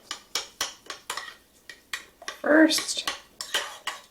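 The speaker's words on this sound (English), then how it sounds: "Actually, I'm just going to stir this around a little" A spoon clinks repeatedly against a dish while stirring honey into a chia seed mixture, a steady run of close, bright metallic taps with a brief word spoken midway.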